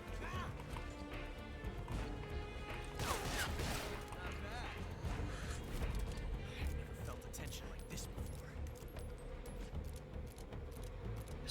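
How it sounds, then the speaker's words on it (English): An enemy soldier reloading a gun in Metal Gear Solid Delta, heard as a few metallic clicks and clacks of the weapon mechanism over steady game background sound. "So he's out of ammo. Now he's reloading."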